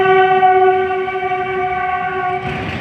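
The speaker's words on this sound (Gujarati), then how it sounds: "Delwada Junagadh train metre gauge આવી ગઈ છે" A Delwada–Junagadh metre gauge train passes beside a park in Junagadh, its horn sounding a loud, sustained multi-tone blast close by that fades out near the end over the rumble of the rail cars.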